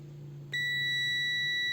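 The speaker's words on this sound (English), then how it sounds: "You can hear the beep here." Multimeter in continuity mode emits a single steady high-pitched tone that starts abruptly and holds while probing a shorted microwave oven AC capacitor, clear and close over a low hum.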